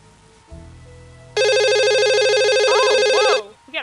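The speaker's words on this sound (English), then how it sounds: "We got a phone call." A phone in the video game Nancy Drew: Stay Tuned for Danger rings with a loud, bright electronic trill lasting about two seconds, following a low hum, with faint warbling tones over its end.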